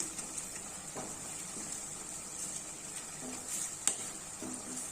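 Fried vermicelli and mixed vegetables for upma being stirred in a pan, a steady soft sizzle with occasional scraping knocks of the spoon, close and moderate in level.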